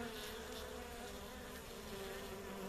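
Honeybees crowd a feeding trough of thin sugar syrup, a steady dense buzzing hum from many insects that holds constant and fairly faint throughout, with no voices.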